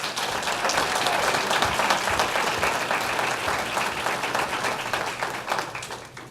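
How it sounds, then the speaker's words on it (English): A school board meeting audience gives a loud, sustained round of applause for the 2019 Teachers of the Year. The clapping is dense and steady, with faint murmuring beneath it, and it fades toward the end. "give one last round of applause for our distinguished Teachers of the Year for 2019"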